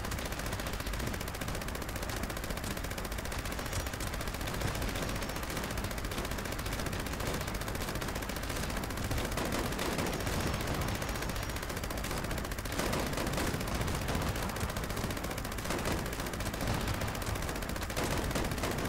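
A Gauss minigun in Fallout 76 fires continuously for the whole stretch, a loud, unbroken stream of rapid, dense shots with no pauses.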